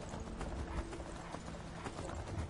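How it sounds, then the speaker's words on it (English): Rapid, rumbling hoofbeats of a horse sprinting in the video game Skyrim roll steadily beneath a low, muffled game ambience, with no talk over them. "As soon as my horse stops sprinting"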